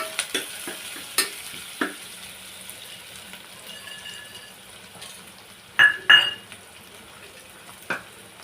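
Cumin seeds sautéing in a pressure cooker for chole pulao, a faint low sizzle broken by several sharp metallic clinks and scrapes of a spoon against the pot.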